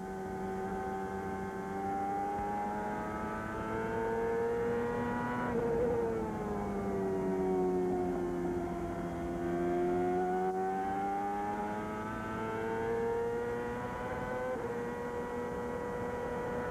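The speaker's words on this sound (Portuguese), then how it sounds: "Senti um pouquinho aí a saúde do motor Toyota do Cristiano" Onboard a CART race car with a Toyota engine at the 2000 Nazareth oval race, the engine holds a loud, steady high-revving drone, its pitch dipping and climbing gently through the laps, with no talk.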